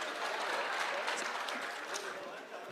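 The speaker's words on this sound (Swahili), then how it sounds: "Tafadhali makofi." A crowd at a public security forum in Migori County claps steadily in dense, continuous applause, heard from the middle of the audience without breaks.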